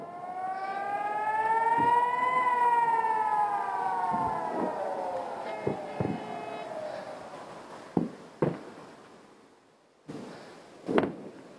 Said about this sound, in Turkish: Şu an sirenler çalıyor.